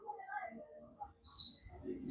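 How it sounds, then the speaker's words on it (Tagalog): Birds chirp in open farmland countryside near Calapan, small high tweets scattered over a faint background hum, moderately close and without speech. "May mga huni ng ibon."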